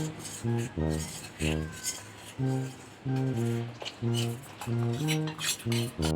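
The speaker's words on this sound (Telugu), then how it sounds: "ముందుగా పాలల్లో కలిపిన కస్టర్డ్ పౌడర్ కూడా ఇందులో వేస్తున్నాను" Custard powder mixed in milk poured into a pot for homemade ice cream, with a metal spoon scraping and clinking steadily against the pot in a regular stirring rhythm, close and fairly loud.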